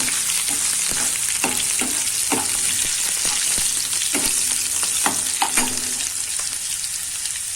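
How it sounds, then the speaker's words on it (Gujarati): Chopped onions frying toward brown for a Gujarati bottle gourd curry, giving a constant loud sizzle with repeated sharp ticks and spoon scrapes at an irregular beat, close up, no voices. "હવે તેમાં આપણે ડુંગળી ડુંગળી ઉમેરીશું કટ કરેલી આપણે બ્રાઉન કલર થવા દેશું"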